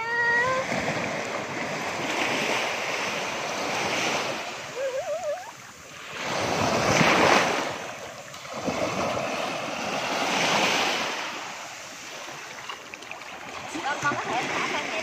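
Ocean surf rolling onto a beach, broad washes of waves swelling and receding in several slow surges, close and fairly loud, with a child's and adults' voices talking and exclaiming over the water.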